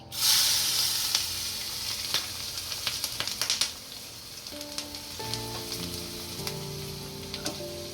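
Curry leaves and two green chillies hit hot oil with asafoetida, bursting into a loud, crackling sizzle that settles into steady spitting and popping, with a few faint tonal rings near the end.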